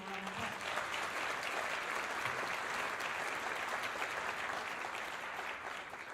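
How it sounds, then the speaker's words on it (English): A concert-hall audience applauds senior band students at a winter band concert, a dense, steady wash of many hands clapping that holds for several seconds with no talk over it. "Please give them a round of applause."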